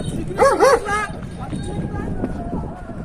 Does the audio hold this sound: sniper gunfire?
no